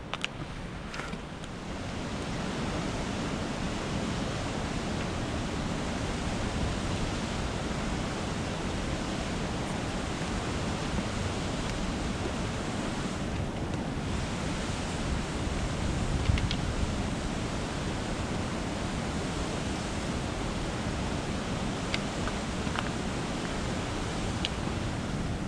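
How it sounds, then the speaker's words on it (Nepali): Water pours from above into an icy mountain stream amid snow on the Annapurna Base Camp trek in Nepal, producing a steady, dense, close rushing roar that continues without pause. "यहाँ चाहिँ एउटा माथिबाट पानी झरिरहेको छ होइन खोला छ"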